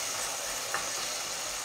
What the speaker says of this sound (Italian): Facciamo soffriggere, non molto, un pochino